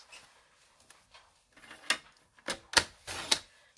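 Card stock being trimmed on a paper cutter, a few sharp blade swipes and clicks building toward the end, close and fairly quiet, no talking.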